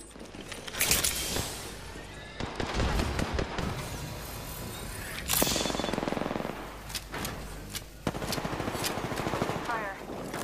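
Gunfire in the Apex Legends video game, rapid bursts of shots with sharp cracks and reload clatter spread across the clip, mixed with game effects and a character voice.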